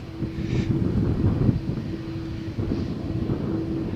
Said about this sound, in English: the departure of the Airbus flight to Dublin